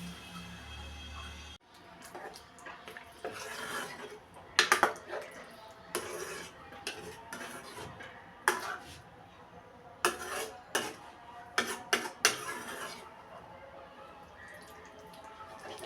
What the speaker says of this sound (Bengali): কষানি হয়ে গেছে, জল দিয়ে দিচ্ছি।